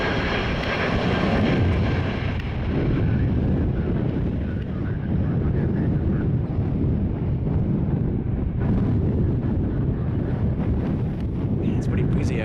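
A jet airliner holding in line on the runway at Southwest Florida International Airport, its steady engine roar continuous and fairly loud outdoors, mixed with gusty wind buffeting the microphone throughout.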